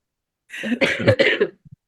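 A close, harsh cough fit lasting about a second, several rough bursts run together, then two small clicks in the quiet after.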